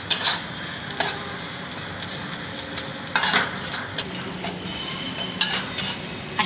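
Ridge gourd peel chutney mixture roasting in a pan, a constant sizzle broken by several sharp scrapes and clinks of a spoon against metal as it is stirred.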